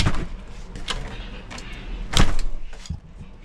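A residential door being swung shut during a door replacement project, giving a solid thump with a sharp latch click near the middle, amid light handling knocks and faint room noise.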